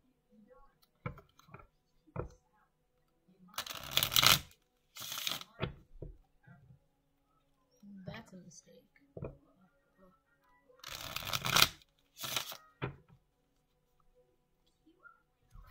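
A deck of cards being shuffled, with several bursts of riffling close to the microphone separated by quiet pauses, small handling taps and soft murmured talk.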